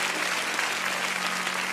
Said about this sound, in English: Give them a good hand clap.